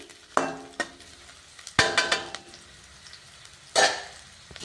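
Ginger garlic paste frying with onions, curry leaves and coriander for tomato sambar, a low sizzle broken by several sharp stirring scrapes of a spoon against the pan.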